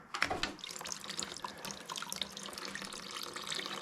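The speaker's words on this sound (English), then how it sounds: "I'm gonna try to drain the gas tank." Old gasoline drains from the tank of a 1968 Wheel Horse Commando 8 tractor in a steady close splashing stream with small drips and gurgles, continuous throughout.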